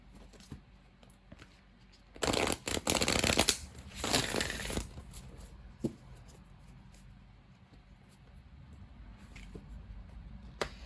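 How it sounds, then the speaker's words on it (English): Yogic Path Oracle cards being shuffled by hand, two close riffling bursts of a couple of seconds each with quiet handling and faint taps before and after. "next I'm gonna get one of the cards from a Yogic Path Oracle"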